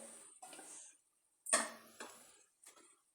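A clay pot set down on a kitchen stove while preparing Kerala kadala curry, heard as a sharp ceramic clunk mid-clip followed by a couple of lighter knocks and scrapes, close and fairly quiet, with no talking.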